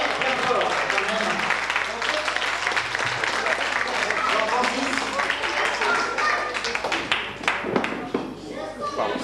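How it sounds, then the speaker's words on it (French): A gathering at an anniversary celebration for a residential home breaks into loud, sustained applause, dense clapping with crowd noise and some voices mixed in, holding steady before thinning toward the end. "On peut l'applaudir très fort quand même."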